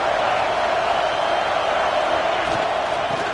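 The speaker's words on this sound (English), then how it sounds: "This crowd bringing the energy and noise early." A dense, steady roar of a large American football stadium crowd fills the whole clip, loud and continuous, with no clear breaks or single voices standing out.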